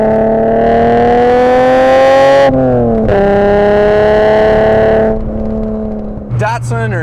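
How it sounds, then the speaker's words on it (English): A Datsun 240Z engine revs hard twice, rising sharply in pitch, then drops back, with a brief third blip at the end; loud and close, with no speech over it. "I absolutely love the throttle response it makes"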